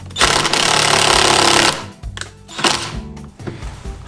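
A DURATECH cordless battery-powered electric impact driver drives a screw, giving a loud, dense rattling hammer burst for over a second, then shorter stuttering impact bursts and clicks as it finishes.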